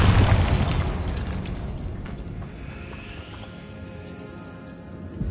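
A Bombarda blasting spell goes off in Hogwarts Legacy with a loud booming explosion at the start, then a long rumbling, crackling decay that fades over several seconds.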